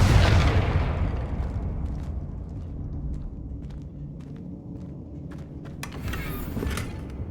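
In the video game Hogwarts Legacy, the Confringo fire spell sets off a loud explosive boom that rumbles away over several seconds, with a few small pops and crackles after it and a brief burst near the end.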